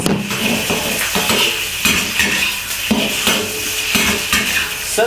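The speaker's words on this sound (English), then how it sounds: "Stir fry the shrimp first." Shrimp stir-fried in vegetable oil in a wok over low heat, a continuous sizzle broken by rhythmic metallic scrapes and clanks of a spatula against the wok, close and loud.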